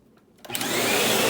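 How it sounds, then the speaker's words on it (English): Eureka Light Speed vacuum cleaner switching on after a quiet moment, its motor surging up to a loud, steady broadband whine that holds close and continuous. "I'm going to turn it on and jiggle it around a little bit"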